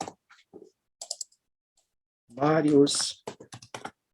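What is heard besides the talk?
typing names on a computer keyboard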